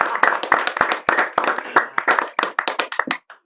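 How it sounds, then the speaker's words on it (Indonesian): Scattered audience clapping at a youth talk session, a few hands producing irregular sharp claps that rise and fall in bursts before stopping abruptly. "Ada tepuk tangannya nih."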